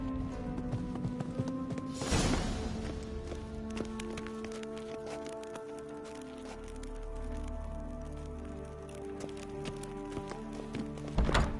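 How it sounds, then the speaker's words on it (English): Horse hooves clip-clop at a run in The Witcher 3, a steady rhythmic pounding that carries on under a game soundtrack with low rumbling tones. "Grab a horse, we'll chase him down."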